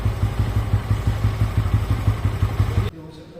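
A Bajaj Pulsar N160 motorcycle with 25,000 km on it idles while its engine warms up. It gives an even, rhythmic thumping beat, then cuts out abruptly just before the end.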